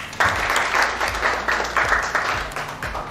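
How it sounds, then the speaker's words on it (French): Office staff clapping for themselves after meeting a birth-certificate registration target, a close, fairly loud burst of irregular hand claps from a small indoor group. "Applaudissez pour vous-même."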